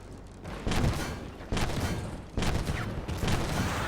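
Tank cannon fire in the online tank game Armored Warfare, with a Leopard tank shooting: a few heavy booming shots at roughly one-second intervals, each with a rolling rumble tail, loud and close, with no talk.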